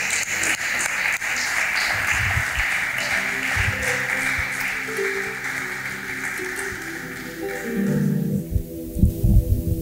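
A church congregation at a youth conference applauds and cheers in a dense, sustained wash of clapping and voices that fills most of the moment before thinning out near the end.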